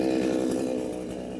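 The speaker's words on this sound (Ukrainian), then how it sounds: "О, вже бензопила заводиться" A petrol chainsaw runs steadily a short distance away, a loud buzzing drone during the clearing of stumps and overgrowth on a plot of land near the Carpathians. No talking.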